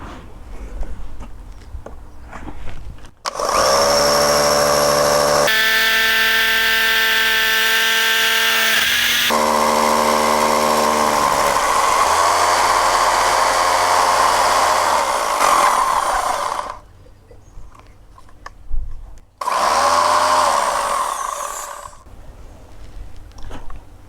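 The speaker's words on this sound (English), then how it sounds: "Change to a hammer drill and do just in one go" A hammer drill whines loudly and steadily as it drills through a wall, its pitch shifting as it bites in, with brief pauses and a final short burst near the end.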